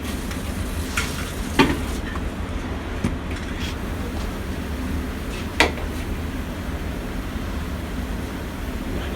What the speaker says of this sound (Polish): Mieszam, nasze ciasto już powoli gęstnieje.